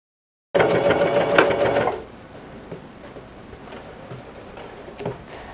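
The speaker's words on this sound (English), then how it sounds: "start sewing around the perimeter right here, and I backstitch really well where there's the opening" A sewing machine stitches around the perimeter of a napkin, a fast loud whirring run that stops after about a second and a half, followed by quiet handling noises and faint clicks.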